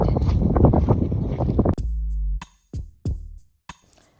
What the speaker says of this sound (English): It's pretty windy out here today though, we're eating a lot of sand.